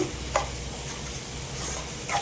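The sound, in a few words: stirring masoor dal sizzling in pan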